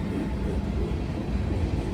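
CSX and NS freight trains meeting on a gloomy day, a steady, loud, low rumble of rolling rail cars with no break in the noise.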